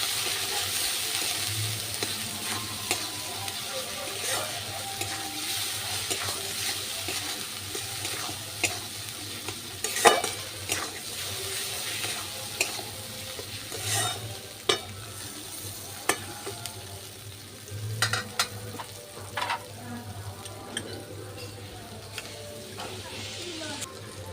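Spices, turmeric and salt being stir-fried together with rohu fish for a kalia curry, a steady low sizzle with repeated scraping and stirring clinks from a spatula, moderately close and continuous.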